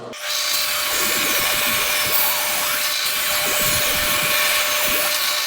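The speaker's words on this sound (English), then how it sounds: "We're going to cut them down to 3 over on the table saw." A table saw rips boards down to 3-inch width for a portable baseball pitching mound, its blade letting out a loud, continuous high whine with a steady tone throughout, close up and with no talking.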